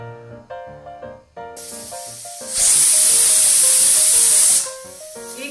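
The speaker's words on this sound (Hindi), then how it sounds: "कुकर में 1 सीटी आके निकल गई है इसकी ये भाप।" A loud, steady steam hiss from a pressure cooker whistle while cooking rice kheer bursts in for about two seconds, set between stretches of quiet background music.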